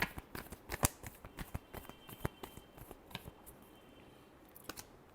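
Tarot cards are shuffled by hand in a quick run of crisp, papery riffles and flicks, close and fairly quiet, with no talking over them.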